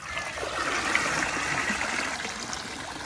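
Water drains out around a large Lego Titanic model ship in a steady, continuous rushing trickle that stays even and fairly loud throughout.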